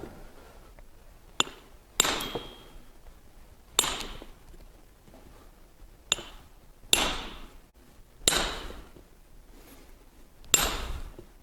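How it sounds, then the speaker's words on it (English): Tracer, the largest hand chisel, struck into stone: seven sharp metallic hammer blows at irregular intervals of about one to two seconds, each ringing briefly, close and clear against a quiet background. "The tracer, the largest of the hand chisels, it is utilized in squaring corners of two rock faces"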